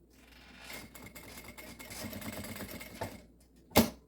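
A sewing machine runs steadily, stitching bias binding around a plastic pen-drive case, its motor buzzing with a rapid, even needle rhythm, then slowing and stopping with a sharp final clunk.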